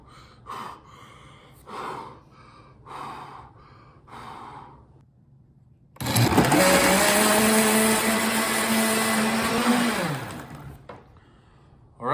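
A blender whirring up to full speed as it mixes a Huel smoothie, loud and close with a steady high motor whine lasting about four seconds, after a few soft breathy sounds, then cutting off.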